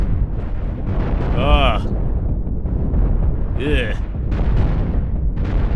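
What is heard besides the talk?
heavy cannon fire and explosions in the video game Cosmoteer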